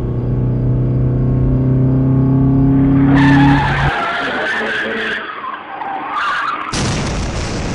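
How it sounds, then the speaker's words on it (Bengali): A car swerving at speed toward a bridge railing lets out a long, loud tire skid over an engine drone, then crunching, scraping impact noise, with a second harsh burst near the end. "স্পিড বাড়িয়ে গাড়িটাকে বাম দিকে ঘুরিয়ে রেলিং এর দিকে নিয়ে গেল"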